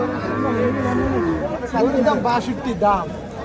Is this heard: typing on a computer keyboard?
no